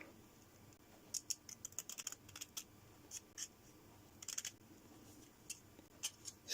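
Quiet, close clicks and light scraping as a blade cuts material guided along a steel ruler, in short irregular bursts over a faint hiss.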